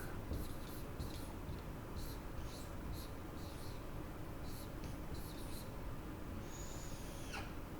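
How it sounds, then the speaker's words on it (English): Black marker scratching out a name on a surface in a first-grade drama class: a series of short, faint squeaky strokes in quick bursts over a steady room hiss, with one longer squeal near the end. "I'm going to take this black marker so you can see my name nice and clear, and I'm going to write it right over here"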